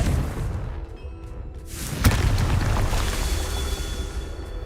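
A Confringo blasting-spell explosion in a wizarding video game: a quiet rumbling lead-in, then a single sharp booming burst that decays into a sustained crackling roar, with no speech.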